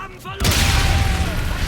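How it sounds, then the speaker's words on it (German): A grenade goes off in the German-language stream of Call of Duty: Infinite Warfare on PS4, landing as a sudden loud boom with a rumbling, noisy tail that lingers, under a voice talking. "Granate, Granate, Granate."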